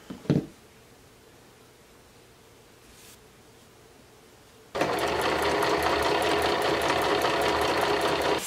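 Sewing machine stitching a pillow made from Ikea kitchen towels: after a quiet stretch with a short handling bump, a loud, steady rapid mechanical whir starts abruptly and runs continuously to the end.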